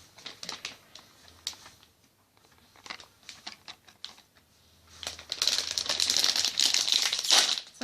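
A package of Japanese candy is torn open with crinkly, rustling plastic crackles and small clicks, sparse at first and then a dense burst of crumpling near the end, close and fairly quiet.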